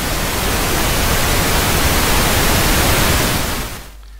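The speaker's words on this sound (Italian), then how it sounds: "ora proviamo invece col rumore viola" Violet noise from a web-based noise generator, heard as a bright, dense hiss that stays steady for several seconds before stopping suddenly.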